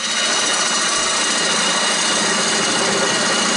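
A lathe turns a tenon on spalted hackberry wood, the tool scraping in a continuous, close, hissing rasp that stays steady throughout with no talk.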